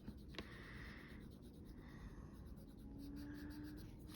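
A lemon yellow colored pencil scratches softly over a finished drawing, a faint and close rubbing with short strokes and brief pauses.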